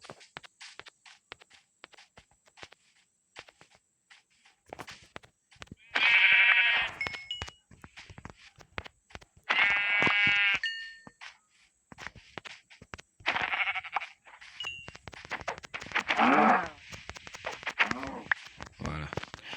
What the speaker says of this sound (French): On va tuer les 2 derniers moutons qu'il y a ici.